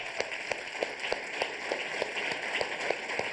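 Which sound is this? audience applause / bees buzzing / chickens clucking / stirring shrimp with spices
audience applause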